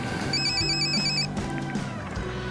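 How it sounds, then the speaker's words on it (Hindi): An incoming call sets a telephone ringing with a bright, repeating electronic ring pattern that sounds loud and close, with low background noise underneath and no talk during the rings. "हर जगह से फोन आ रहे हैं।"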